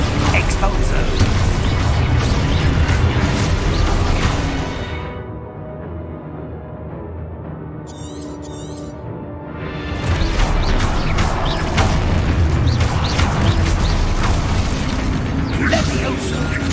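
A spell explosion in Hogwarts Legacy bursts into a loud, dense blast of crackling debris and rumble, dropping away to a quieter lull with a faint high chime before another heavy roaring burst of destruction returns.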